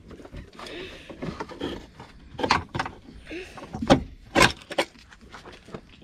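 Exterior mirror being pulled off a Porsche Panamera 4S door: a series of sharp plastic clicks and snaps close by, with rustling handling between them and voices talking intermittently.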